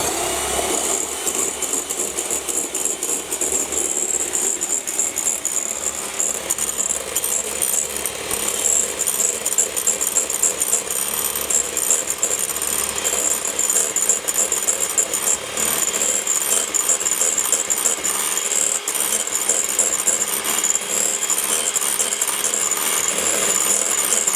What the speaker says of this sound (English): you've just got to pop in a pinch of salt and then whisk that up